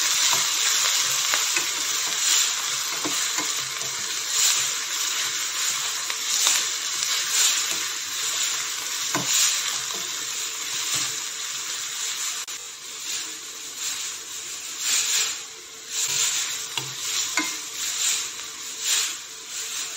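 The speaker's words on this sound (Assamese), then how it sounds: "এই আদা নহৰু আৰু পিঁয়াজখিনি মই ভালদৰে এতিয়া ভাজি ল'ম" Steady, loud sizzling of onions and paste frying in hot oil, with occasional scrapes and stirring sounds, continuing without pause.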